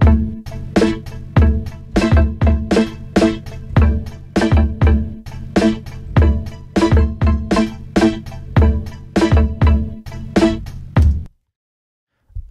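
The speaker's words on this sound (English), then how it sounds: "our synthesizer, or the sampler in this case, actually has some groove to it and is kind of playing along with the drums" A synthesizer sampler vocoded with the Evoc 20 in Logic Pro follows a drum loop, pulsing in tight, grooved rhythmic bursts that lock to the beat before cutting off abruptly near the end.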